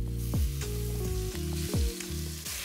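Short ribs searing in hot avocado oil in a ripping-hot pot, steady loud sizzle close up, broken by a few sharp metallic clanks and shifting pops as the meat is moved, no voices.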